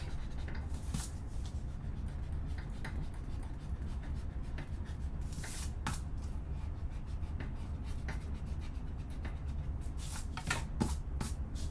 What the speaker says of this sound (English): I'm going to quickly erase my pencil mark